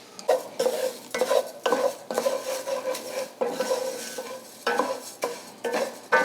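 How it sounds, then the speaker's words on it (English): Long grain rice toasting in a pan, stirred with a utensil in repeated scraping, rattling strokes of grains against metal, close and fairly loud with a light sizzle beneath. "I've got 1 cup of rice. This is a long grain rice. And I'm going to put that in here, and we're going to toast this rice."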